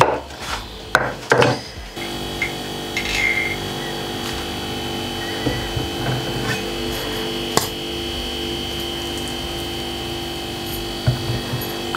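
A knife cuts through avocado on a board with a few sharp, close scrapes and knocks at first, then sparse soft cuts over a steady background hum.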